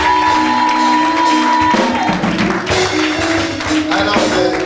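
A church congregation at a French-language worship service acclaims and cheers over ongoing music, with a loud, steady wash of voices, shouts and clapping.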